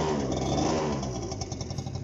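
Running engine of a Stalker scooter just after a three-kick start, a steady mid-pitched two-stroke buzz that holds loud and close throughout, with slight wavering in level and no talk over it.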